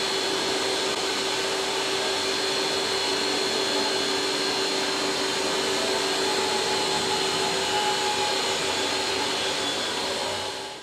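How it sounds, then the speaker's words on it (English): A loud, steady motor whine from the dual vacuum motors of a Rotovac CFX carpet extractor runs without a break, with a constant high hum and a hiss of rushing air. "With dual ZX vacuum motors, you can run up to 200 feet of vacuum hose."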